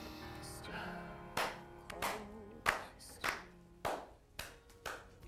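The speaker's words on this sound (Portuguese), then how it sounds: "Só eu que bato palmas, você percebeu" One person clapping hands alone, sharp individual claps in an uneven rhythm, about ten of them spaced under a second apart, close and fairly quiet over a faint background tone.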